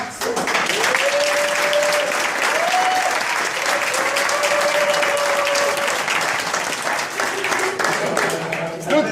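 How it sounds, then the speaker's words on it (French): Sustained applause from a crowd, steady and loud throughout, with a voice speaking over the clapping. "si vous pouvez l'applaudir et le remercier"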